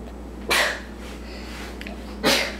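Two short, sharp sneezes a couple of seconds apart, close and fairly loud against quiet background hum.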